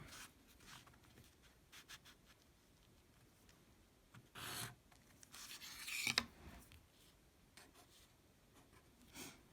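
A pen or marker scratches out a straight line during a pre-algebra lesson. Quiet, intermittent rubbing strokes build to a couple of louder, longer drags near the middle and end, with no talking.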